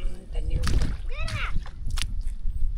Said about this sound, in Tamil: தண்ணி பாயுது.